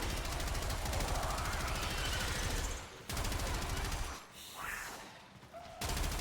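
Rapid automatic gunfire from a mag dump into infested enemies in the video game Warframe, loud sustained bursts with brief gaps and whooshing effects, no talk.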